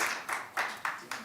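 A few faint, evenly spaced claps from a small group at a rehearsal, four soft beats in quick succession.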